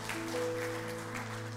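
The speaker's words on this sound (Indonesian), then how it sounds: "Boleh kasih tepuk tangan buat Tuhan kita." A church congregation claps in a brief wash of faint, steady applause over a low room hum.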